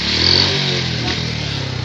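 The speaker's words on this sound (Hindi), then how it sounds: "ये अपनी जी गैस LPG और ये बाइक चल रही है, आप देख सकते हैं।" A Honda CD 70 motorcycle engine running on LPG gas chugs steadily close by, its low throbbing note holding even with a slight rise and fall in pitch.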